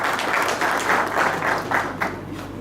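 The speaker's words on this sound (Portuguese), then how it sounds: "Vamos a recibirle con un fuerte aplauso también aquí, señoras y señores, el auditorio." An auditorium audience at an agricultural integration forum claps to welcome a speaker, a short burst of moderately loud applause with loose rhythmic pulses that fades slightly at the end.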